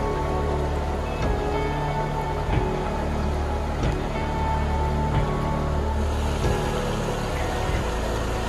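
At South Mineral Creek Falls in Colorado, a double waterfall whose upper tier drops about 35 feet into a deep pool sends up a steady, dense rushing roar that holds constant throughout, with no voices.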